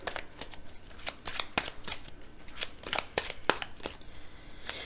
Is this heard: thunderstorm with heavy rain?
no